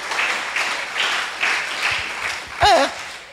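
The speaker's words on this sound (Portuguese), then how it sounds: "E dê um aplauso ao Senhor" A church congregation applauds in praise during a Portuguese-language service, clapping in loose swelling waves with an amplified preacher's voice breaking in briefly near the end.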